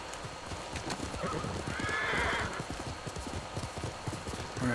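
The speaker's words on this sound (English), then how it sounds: "I can call my horse and he'll arrive on this side." A summoned horse in Ghost of Tsushima gallops in with rapid, rhythmic hoofbeats drawing closer, and a loud whinny rises over the clip-clop midway before the hooves settle near the end.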